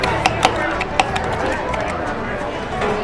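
Fresh cucumber being muddled in a glass for a gin cocktail at an Irish pub bar, a few dull thuds and pressing knocks close by, with faint background chatter.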